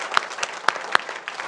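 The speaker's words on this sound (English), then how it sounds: "One round, big more round of applause for all of our parents and students in the room." An audience at a school district governing board meeting gives a brief round of applause for parents and students, a lively burst of many hands with several crisp, close claps popping out of the crowd.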